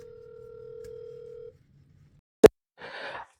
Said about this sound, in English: I'm a call Gracey so me and her can talk.